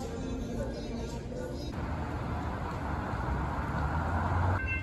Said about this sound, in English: Now we walk past here and again a train is coming. An Amtrak.